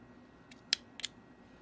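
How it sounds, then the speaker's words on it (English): Two quick, crisp snips of scissors cutting crochet yarn, faint and close against a quiet background hum, with a light click just before the first cut. "Cut yarn"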